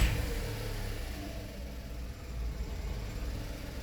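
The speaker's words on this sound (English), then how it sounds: "now I'm going to start the engine" A VW Polo 1.2 petrol engine with a camshaft position sensor fault running close by, a low, steady mechanical hum with slight swells, with no voices.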